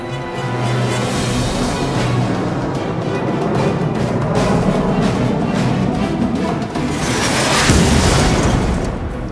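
A target hit by a Predator C Avenger drone explodes in a long, heavy rumbling blast that swells again near the end, loud and sustained with a deep roar.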